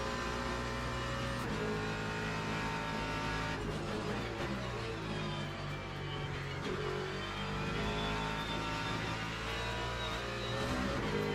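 Simulated race car in Le Mans Ultimate, a loud, continuous engine drone with shifting revs and a brief tire squeal, sustained throughout with no talk over it.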